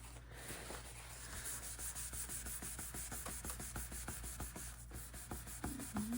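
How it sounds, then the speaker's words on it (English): Excess stamp ink being buffed off a card, a close, steady rapid rubbing that repeats in quick even strokes over a constant background hiss. "Buff off that excess ink."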